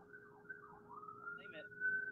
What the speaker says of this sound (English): Sirens again.